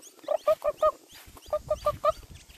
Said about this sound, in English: this is the friendliest chicken you have ever met in your life